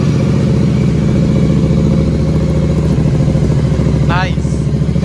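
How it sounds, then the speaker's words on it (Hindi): Two motorcycles with aftermarket exhausts idle after a cold start on a mountain ride near Dehradun, a loud, close, throbbing engine drone with a pulsing beat, briefly joined by a short chirping tone near the end, while a voice can be heard talking. "कोल्ड स्टार्ट करते हैं दोनों एग्जॉस्ट दोनों बाइक्स का।"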